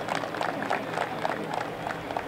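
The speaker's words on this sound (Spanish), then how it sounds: "a quien pido un fuerte aplauso" An audience at a youth baseball tournament opening claps for José Cano with scattered, fairly close rhythmic handclaps that continue steadily over a faint crowd murmur.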